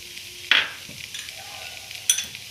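Onions sautéing in a pan with cumin powder for Kerala-style pepper chicken, giving a low, soft background sizzle broken by two sharp stirring scrapes and clinks. No one talks.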